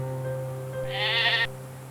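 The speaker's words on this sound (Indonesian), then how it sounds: "Kalian dengar nggak suara domba?" A single sheep bleat plays as a sound effect, loud and wavering for about half a second over a steady low hum, with no voices.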